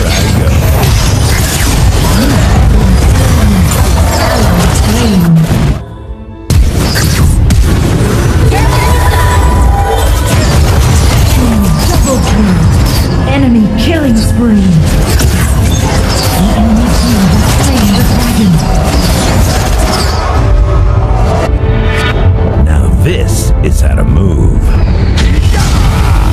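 League of Legends: Wild Rift mobile game action as a turret is destroyed, a dense, loud stream of booms, crashes and clanking mechanical effects with layered ability sounds, briefly cut to silence once before resuming.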